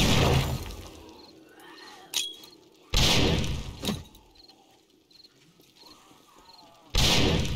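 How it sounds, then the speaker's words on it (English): Grenades detonate in 7 Days to Die, three sharp, loud blasts spaced a couple of seconds apart, each with a shattering crack and short rumbling decay, plus a smaller thump in between. "Let's toss a couple of grenades down there."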